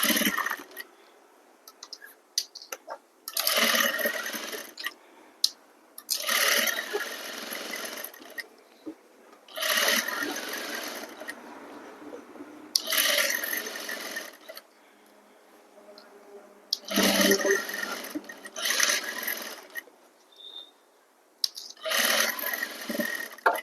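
A sewing machine stitches a lining piece to fabric in repeated bursts of steady mechanical whirring, each run lasting a few seconds and separated by short pauses, close and fairly loud with no talk over it.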